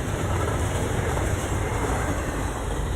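Freight trains on a desert mainline across the Mojave produce a loud, continuous rumble and roar of rolling railcars, steady and close, with a broad hiss and no voices.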